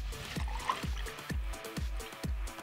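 Grapefruit juice glugs into a Collins glass holding vodka for a Greyhound cocktail, in a close, steady train of rhythmic gurgling pulses with a faint trickle between them and no voices.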